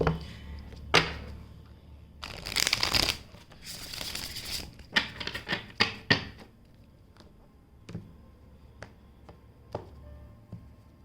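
Cards being shuffled: bursts of riffling and a run of sharp taps and slaps on a surface, close by, with no voices.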